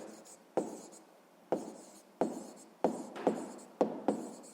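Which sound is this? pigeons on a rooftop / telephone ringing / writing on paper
writing on paper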